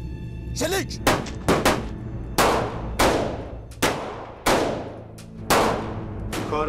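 Gunshots ring out in a rapid series of about eight sharp, loud reports, spaced roughly a second apart, each with a ringing, metallic decay and low background hum.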